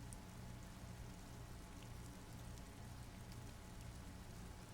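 Steady rain falls in the Disco Elysium video game, a soft, even hiss of drops with faint patters scattered on top, continuous and unbroken with no voices.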